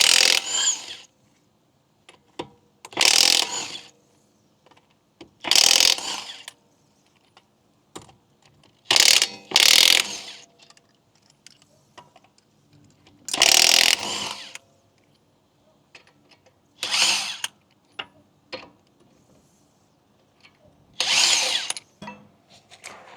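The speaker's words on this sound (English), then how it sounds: "And we're using this DeWalt impact wrench." DeWalt impact wrench spinning off the five 22 mm lug nuts on a Cadillac CT6 front wheel with Brembo brakes: about eight loud, sharp hammering bursts separated by short quiet gaps, with no talking.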